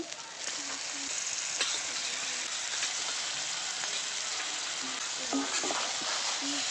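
Chicken pieces drop into a pan of Bengali spice paste that has been fried down with spiced water, giving a steady close sizzle and frying hiss with stirring scrapes throughout, and no talk over it.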